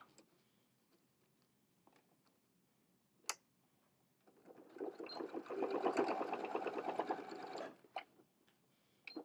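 Sewing machine stitching and backstitching a zipper pouch, a faint rapid mechanical whirr lasting a few seconds between quiet ticks and clicks of handling.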